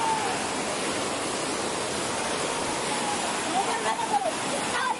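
Kamalapur waterfall near Manuguru roars as a steady, dense rush of falling water, loud and continuous throughout, with brief faint voices over it near the end.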